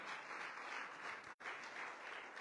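Church congregation clapping in praise during a Spanish sermon, a steady, even wash of applause that briefly cuts out for an instant midway, then resumes at the same level.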